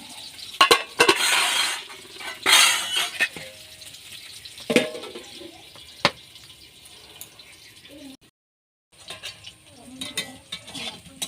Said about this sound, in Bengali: এই যে প্রথমে এখন কুমড়োগুলো ভেজে নিচ্ছি